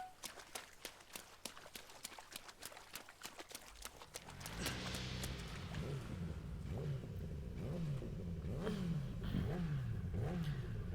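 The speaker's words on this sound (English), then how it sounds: "Wait for the noise of the motorbike." In the video game Yakuza 0, clip-clop footsteps give way to a loud, steady engine drone with repeated rising and falling revs, like a motorbike accelerating.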